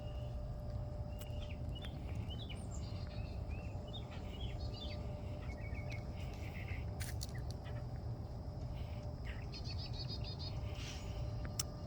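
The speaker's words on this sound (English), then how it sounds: "I can hear birds." Birds chirp and call intermittently at a moderate distance over a steady outdoor wind and ambient rumble beside wetlands, with scattered short tweets throughout.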